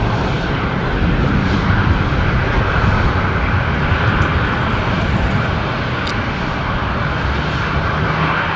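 Air New Zealand airliner at Brisbane Airport, a steady loud engine roar filling the whole stretch without letup, broad and rumbling like a jet passing fairly close.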